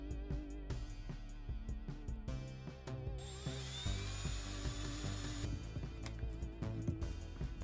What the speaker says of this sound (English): Now we're just going to drill a small hole in the back here.